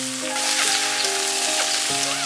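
Onions and potatoes frying in oil with a bay leaf for Bengali aloo dum give a steady, close, loud sizzle with crackling that runs unbroken throughout.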